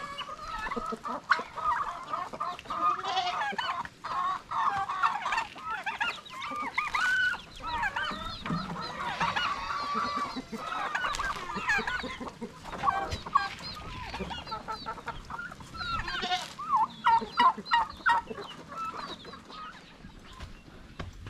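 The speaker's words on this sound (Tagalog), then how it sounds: "yung mga pabo natin dito, ilipat natin doon sa kabilang bakod" Turkeys and chickens on a farm fill the air with continuous overlapping gobbles, clucks and honking calls, a dense, busy flock sound that is close and lasts throughout.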